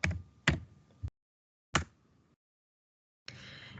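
Keys on a computer keyboard are tapped while numbers are entered into a spreadsheet: a few sharp, close clicks with gaps between them, then a softer, steady rustle, with no voices.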